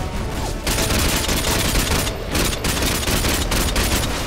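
Rapid bursts of gunfire from the video game Spec Ops crackle loud and close in dense, overlapping volleys, with only a few brief gaps between strings of shots.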